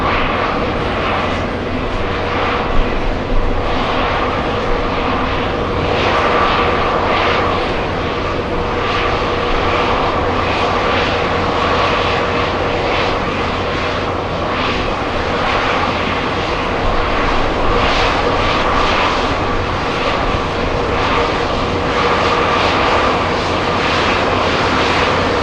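A Virgin airliner descends toward landing at JFK Airport in New York, its engines roaring steadily and loud for the whole stretch, a broad continuous rumble with no talk over it.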